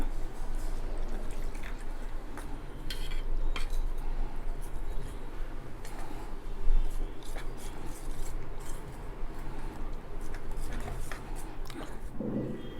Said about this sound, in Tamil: இப்போ நம்ம கார்ன்ஃப்ளவரும் மைதாவும் போட்டதை கலந்து வச்சுக்கலாம் தண்ணி ஊற்றி